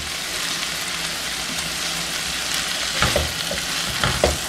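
Vegetables stir-frying in a pan with stir fry sauce, giving a steady loud sizzle with scraping stir strokes that grow sharper toward the end, no voices.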